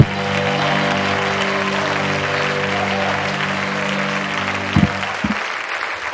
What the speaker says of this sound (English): Put your hands together, Brother Robert Tisdale.